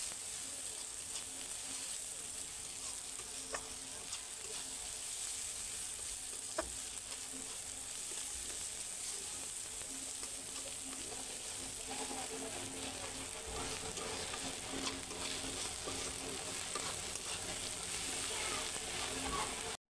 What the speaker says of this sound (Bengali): আদা রসুন বাটাটা এখন ভালোভাবে পেঁয়াজের সাথে ভেজে নিব।